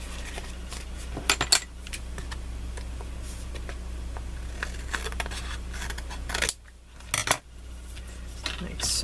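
Scissors cutting the edge of card for card making: faint snips and small metallic clicks come close up, with a couple of sharper ticks and taps scattered among them over a low steady hum.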